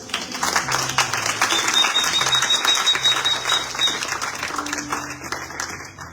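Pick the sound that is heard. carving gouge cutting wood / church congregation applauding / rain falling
church congregation applauding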